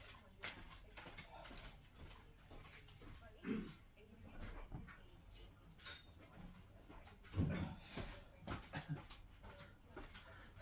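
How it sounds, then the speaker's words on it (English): A puppy whimpers and whines faintly in short bursts, wanting to be let out, amid quiet room noise and small handling sounds. "The puppy dog wanted to go out"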